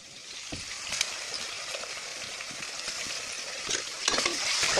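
One teaspoon of ginger garlic paste fries in a pan with a soft, steady sizzle, broken by a few sharp clinks and scrapes of a spoon stirring against the metal.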